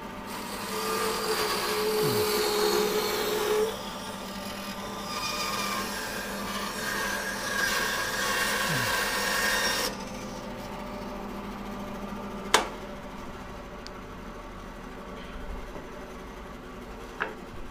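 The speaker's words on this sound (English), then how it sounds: "The half-inch blade goes round that corner quite comfortably." A band saw with a half-inch blade hums and rasps loudly through a split woodturning blank for about ten seconds, then the cutting stops, leaving quiet workshop sounds with a couple of sharp knocks.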